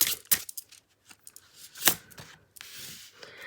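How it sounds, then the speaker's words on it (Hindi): A tarot card is pulled from a deck, giving a few sharp papery snaps and swishes with soft shuffling rustles between them, close by and fairly quiet, with no speech. "ग्रुप नंबर फर्स्ट के लिए एक कार्ड निकाल लेते हैं यहाँ पर इस डेक से"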